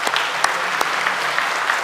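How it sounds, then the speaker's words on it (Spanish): A church congregation at a Spanish-language service claps together in dense, steady applause for the Lord. The clapping fills the whole moment without a break, and no voices rise above it. "le damos un fuerte aplauso al Señor."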